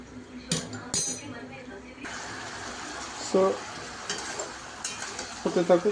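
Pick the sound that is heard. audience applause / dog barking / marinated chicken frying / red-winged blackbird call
marinated chicken frying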